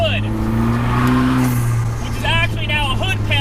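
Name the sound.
2020 Vanderhall Carmel three-wheeler engine accelerating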